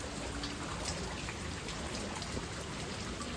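Steady rain pours down, a dense, even hiss of drops striking surfaces that continues without pause.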